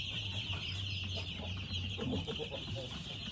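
Two-week-old broiler chickens cluck and chatter continuously in a backyard poultry coop, a close, busy flock sound over a steady background hum.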